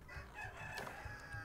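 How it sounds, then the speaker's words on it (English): Rooster crowing in the strategy game Diplomacy Is Not An Option, a single faint, quiet call over the game's background ambience. "Stop, rooster, please."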